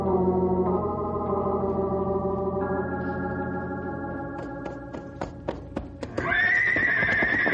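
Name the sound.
horses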